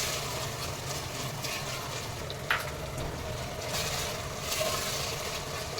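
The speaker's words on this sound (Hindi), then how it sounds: "ये देखिए हमारे टमाटर भून गए हैं।" Tomatoes fry in a pan for mutton khichda, giving a steady close sizzle and hiss with occasional faint stirring scrapes.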